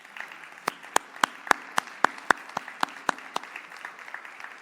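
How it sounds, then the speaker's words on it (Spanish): Scattered applause for a speaker at a medical symposium on heart failure, a few distinct claps standing out sharply over a softer background patter, moderately close, with no talking. "Un aplauso para Chus Puchades"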